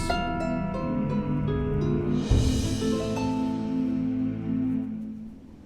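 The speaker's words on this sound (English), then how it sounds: "it's kind of meant to sound like a deserted battlefield" A dark, sustained video game ambient loop evoking a deserted battlefield, with layered tones and a soft swelling whoosh midway, slowly fading out; eerie and empty, with no voices.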